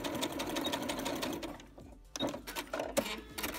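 A sewing machine backstitches a kimono seam with a steady, close mechanical whir of rapid stitching. It pauses briefly midway, then resumes with a few short bursts.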